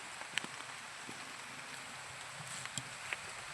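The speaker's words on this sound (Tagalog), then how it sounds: "Kaso lalakas yung ulan." Rain falls steadily outdoors near a mango tree, a faint, even hiss with a few scattered drips and taps standing out, with no talking.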